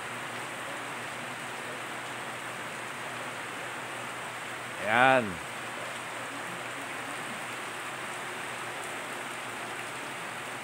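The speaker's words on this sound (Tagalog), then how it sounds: "Ngayon umulan." Steady rain falls outside a home in a constant, even hiss, with a single short spoken word breaking in briefly midway.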